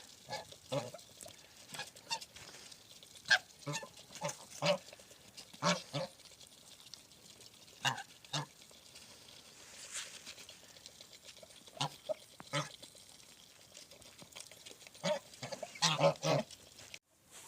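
Scattered honks and quacks from geese and a duck on a village farm, intermittent calls at moderate distance over a quiet background.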